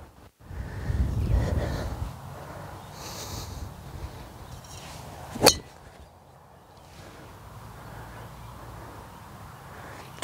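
A golf driver cracks into a ball once, sharp and close, midway through a steady rush of strong wind on an open practice area.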